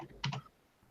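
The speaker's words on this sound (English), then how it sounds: "you were furiously typing away because we could hear it" A quick burst of two or three keystrokes on a computer keyboard, faint and close, followed by quiet.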